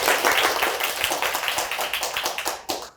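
Audience applause at a live tax and legal Q&A event, a dense burst of many hands clapping close and steady for a few seconds, tapering slightly at the end.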